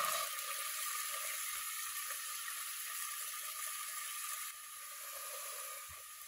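Diced onions fry in a hot pan while cooking rouladen, giving a steady, fairly quiet sizzling hiss that runs throughout and eases slightly near the end.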